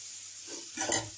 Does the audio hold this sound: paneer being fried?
yes